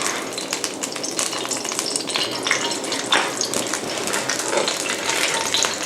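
Lard heating in a wok for Yangzhou fried rice gives a steady, dense sizzle and crackle, close and fairly loud, continuous throughout with no speech.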